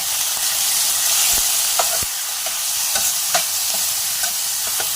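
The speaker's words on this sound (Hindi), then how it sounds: "ये हम लोग लहसुन के साथ जो है चिकन फ्राई कर रहे हैं।" Chicken frying with garlic in oil for a wrap filling, a loud steady sizzle with occasional scrapes and taps from stirring, close up and with no talk.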